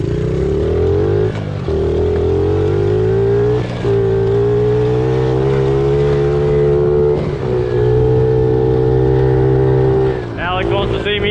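A pit bike engine revs hard and steadily on a trail with jumps, a loud, close, sustained buzzing drone with brief throttle dips and surges throughout.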